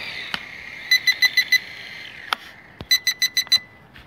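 Two bursts of electronic beeping from an Idea 7 GPS drone, each five quick high-pitched beeps in a row, with a steady whine and a couple of clicks in between.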